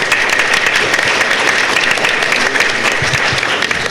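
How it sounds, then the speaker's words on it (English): A crowd at a San Diego convention panel breaks into applause. The clapping is loud, dense and even, and it holds steady for about four seconds with no speech over it. "Give him a round of applause."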